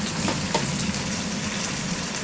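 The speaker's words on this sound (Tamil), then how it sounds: "தக்காளி நல்லா வதங்கட்டும் உப்பு கொஞ்சம் போட்டு நல்லா கொஞ்சம் நேரம் வெதங்க விட்டுடலாம்" Tomatoes with salt sautéing in a pan for egg chutney, giving a steady, even frying hiss throughout, fairly close, with no talk.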